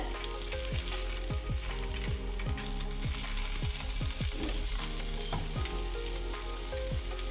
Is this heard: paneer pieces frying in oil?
yes